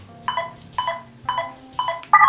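Four evenly spaced electronic beeps from a Xeno3 RGB lightsaber turning clash effects off, each a bright ringing tone, followed by a short higher chirp at the end.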